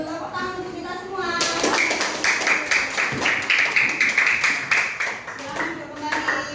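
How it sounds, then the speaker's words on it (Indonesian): Children in a Year 4 classroom clap together in a quick, rhythmic burst of sharp, close hand claps after a short sung chant. A teacher's voice comes before the clapping. "Tepuk tangan untuk kita semua."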